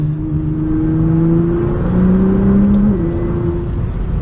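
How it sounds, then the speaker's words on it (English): A Nissan GT-R engine hums steadily, then its pitch drops and climbs again while downshifting twice into a turn, a continuous close whir with no talking. "as we come around a turn, just downshifting twice"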